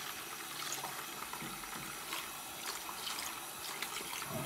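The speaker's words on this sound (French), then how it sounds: "Et on laisse couler l'eau." Tap water running steadily to rinse gold in a gold dealer's workshop, a continuous faint trickle and splash with small bursts of spatter, no voices over it.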